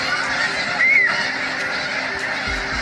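A flock of geese on a softball field, with one clear rising-falling honk standing out over a steady outdoor wash of noise and scattered distant calls.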